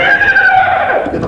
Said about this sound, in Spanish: ¡Quieto, caballo!